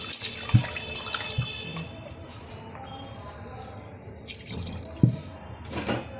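Water pours and splashes into a pot of mutton curry, with a few sharp clinks of utensils against the pot, close and fairly quiet.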